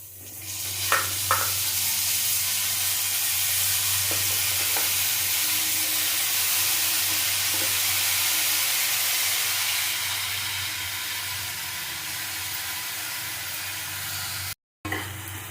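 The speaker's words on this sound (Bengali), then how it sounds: "ডালের সাথে আমি ডালিয়াটা ভেজে নেব" Cracked wheat fries in a pan alongside mung lentils with a steady bright sizzling hiss, a few soft taps of a spoon early on, then a brief cut to silence.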